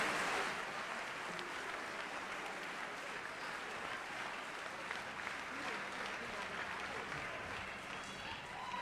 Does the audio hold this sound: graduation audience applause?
yes